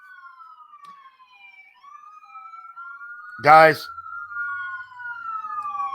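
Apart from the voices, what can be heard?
ambulance siren passing by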